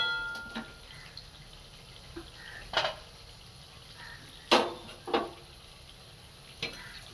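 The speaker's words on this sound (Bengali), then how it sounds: "আর এবার দেব একটু গরম জল।" Hot water poured into fried spices and sugar in a pan, then stirred: a quiet sizzle with a few sharp hissing bursts and scraping stirs, no talk.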